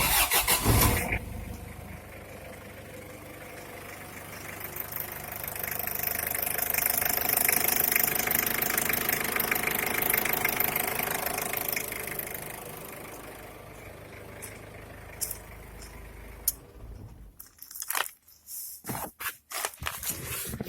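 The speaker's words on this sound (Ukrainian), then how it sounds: "Оце так машина заводиться." A Ford Ranger 2.5 diesel engine (Mazda WL) cranks and catches, then settles into a steady, rough idle with a clattering diesel knock that runs on, ending with some clunks and shuffling.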